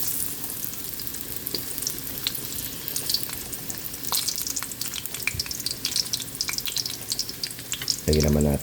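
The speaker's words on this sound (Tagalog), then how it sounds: "Prito natin yung kamote." Close, steady sizzling of sweet potato frying in oil with crackles and pops, and a low rumble near the end.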